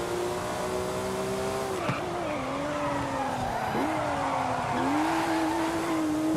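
A race car in Forza Horizon 5 holds a steady engine drone broken by sharp gear changes, each one dipping and then climbing again, with tire squeal and skidding mixed in and no talking.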